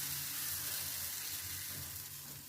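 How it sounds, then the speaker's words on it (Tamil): Lentil adai dosa batter on a hot oiled griddle sizzles and fries steadily, a close, constant hiss with no talking. "தோசைக்கல் அடுப்பில் வச்சு சூடானோடனே எண்ணெய் தேய்ச்சி தோசை ஊற்றிடுங்க"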